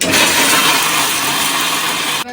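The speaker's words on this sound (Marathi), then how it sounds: "आता मिक्सर लावून घेते" A kitchen mixer grinder pulverizing fried puris for laddu roars loudly and steadily as a continuous whirring grind, then cuts off abruptly just before the end.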